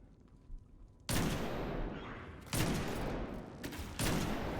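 Sniper rifle gunfire in a first-person shooter mission, three loud, sharp broadband blasts spaced about a second and a half apart, each trailing into a sustained rumbling decay over a quiet background, with no talking.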